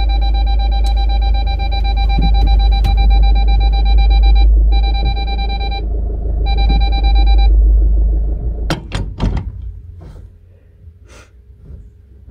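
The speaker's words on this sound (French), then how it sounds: "Je déteste le bruit de la marche arrière. Ça bip tout le temps." A vehicle's reversing beeper sounds in long repeated tones over a low engine rumble at a dressage competition, then stops, followed by sharp clunks and knocks nearby.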